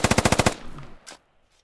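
A machine gun in a first-person shooter video game fires a loud, rapid burst of about seven shots that cuts off and fades into a short echo, then a faint click follows.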